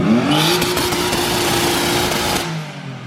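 BMW E36 with its M52 inline-six engine held at high revs as it pulls in, a loud sustained roar with a steady droning pitch that drops away near the end, no talking over it.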